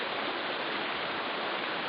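The Waigiren River on Buru Island flowing steadily, a continuous broadband rush of water with no pauses, alone and fairly loud throughout.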